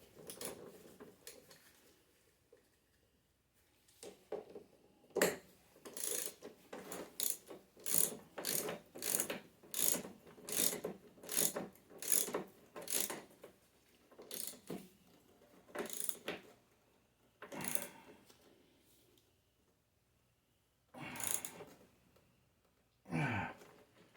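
A ratchet wrench clicks in repeated strokes as it tightens a 13 self-locking nut on an old Snapper mower transmission, with bursts of rapid pawl ticks separated by short pauses, close and fairly loud with no talking.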